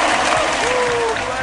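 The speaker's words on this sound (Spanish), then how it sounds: "¡Un aplauso!" A studio audience claps for a new sponsor during a live talk program, a short, full burst of applause with a faint sustained tone running through it.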